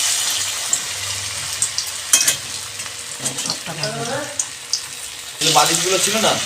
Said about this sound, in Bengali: মাখা কমপ্লিট হয়ে গেল এবার ভাজা হবে ইয়ে দেখো কড়াইতে তেল বসিয়ে দিয়েছি